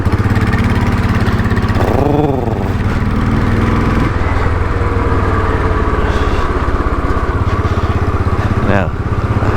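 A Royal Enfield Bullet 500 single-cylinder motorcycle, nicknamed Daisy Bell, thumps steadily and loudly up close while being ridden, with brief shifts in engine pitch around gear changes.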